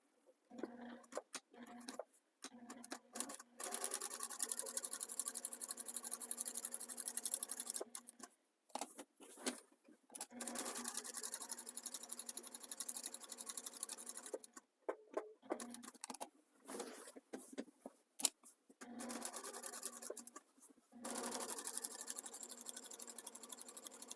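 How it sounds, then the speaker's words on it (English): Sewing machine stitching close to the edge of a quilt label during machine binding, heard as faint rapid ticking runs that stop and start several times, quiet and close. "I'm just going to stitch close to the edge of the label"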